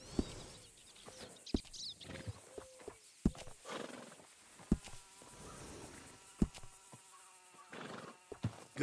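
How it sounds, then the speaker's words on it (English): In the Red Dead Redemption 2 game world, a horse snorts and neighs near a stable with sharp clip-clop hoof knocks and buzzing flies, faint overall with no talk. "Good-looking horse there."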